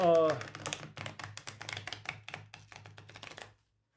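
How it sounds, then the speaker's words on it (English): A tarot deck riffle-shuffled by hand gives a rapid, crisp run of card flicks lasting about three seconds, close and fairly loud, after a brief tonal sound at the start, then stops into silence. "it shuffles very, very nicely"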